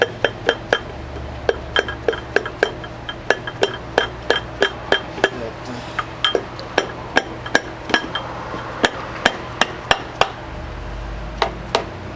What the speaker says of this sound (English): Then you tap with a hammer here.